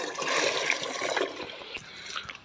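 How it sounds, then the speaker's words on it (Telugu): Water pours from a tank into a trough for a buffalo, a close splashing gush that is strongest at first, then thins to a lighter trickle and drips. "సో నీళ్ళు అయితే పోసేస్తున్నా"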